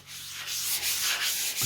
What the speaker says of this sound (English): So I just used a sanding block and went over this seam.